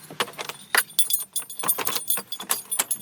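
Keys for a 2022 Subaru Impreza Premium hatchback with a keyed ignition, jangling and clinking in quick irregular bursts close up, with no talking.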